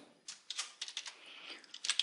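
Quick keystrokes on a computer keyboard enter a web address into a browser, a brisk run of close, crisp clicks at an uneven rhythm.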